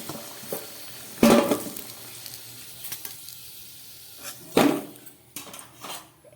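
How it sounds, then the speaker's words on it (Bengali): Fried potatoes lifted from hot oil in a home kitchen, with soft sizzling and two sharp spoon-and-pan clatters, plus light scraping between them. "আলুগুলো খুব ভালো করে ভেজে নিলাম। এবার আমি আলুগুলোকে নামিয়ে নিচ্ছি।"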